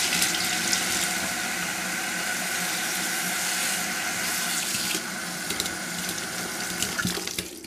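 Steady running water pours from a tap into a spray bottle, a continuous hissing stream that shifts in tone partway through as the level rises.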